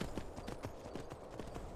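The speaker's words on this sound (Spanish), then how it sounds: "¡Estoy montando a caballo!" Horse hooves clip-clop at a steady trot while riding in the Skyrim video game, a close, continuous rhythm of beats lasting the whole stretch with no talking.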